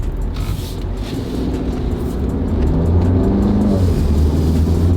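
A car in comfort mode accelerates along a back road, heard from inside the cabin as a steady engine drone that builds gradually in loudness, with no talk.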